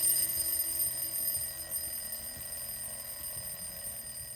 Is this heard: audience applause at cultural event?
no